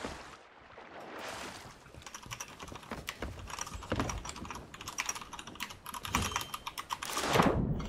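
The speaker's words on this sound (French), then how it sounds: "Attends, ton clavier à fond." A loud computer keyboard clatters with rapid, uneven keystrokes, close to the microphone, bursts of fast typing building toward the end with no voices over it.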